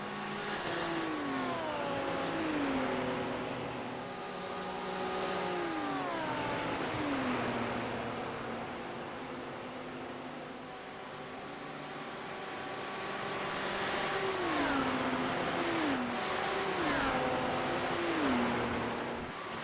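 Several BMW race cars in the sim racing game iRacing, at the Nürburgring, roar past with engines revving up and dropping through gear changes, loud and continuous with no talk over them.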